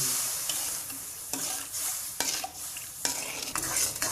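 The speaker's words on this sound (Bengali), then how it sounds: "আমি নেড়ে চেড়ে চিনিতে আঁশ উঠে নিচ্ছি" Sugar syrup for a whole raw tamarind murabba being stirred in a pan, with a bubbling hiss and several distinct scraping knocks of the spoon against the pan at irregular intervals, close and alone.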